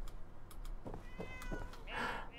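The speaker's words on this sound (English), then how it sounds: "There's a kitty!" A house cat in the video game Fallout 4 meows a few times in short, close calls, the last one longer and brighter, over a low steady background hum.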